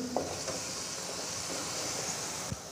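Chicken and vegetables such as potato frying in a pot for chicken soup, a faint, steady low sizzle with a couple of light clinks from stirring, no voices.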